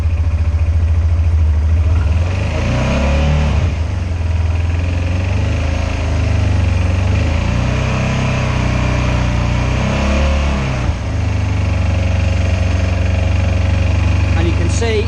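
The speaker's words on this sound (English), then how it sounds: "So the engine is running." A car engine idles with a steady, loud low drone throughout, rising and falling slightly at moments as if lightly revved, with a person talking over it.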